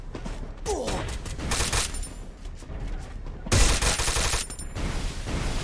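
Gunfire from the video game Free Fire: dense bursts of rapid automatic shots, loud and close, with a sharp cluster near the start and a heavier volley later, mixed with clicking mechanical game effects.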